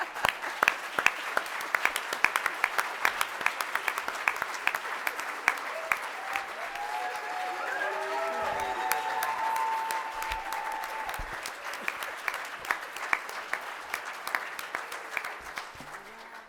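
An audience at a leadership forum applauds, with a dense, sustained wash of many clapping hands in a hall that swells and then thins out over several seconds, with some voices in the crowd.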